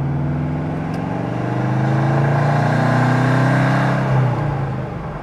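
Boxer engine of a rear-wheel-drive Mini with a custom TIG-welded stainless exhaust, a steady loud low drone that swells slightly in the middle before easing off, with no talk.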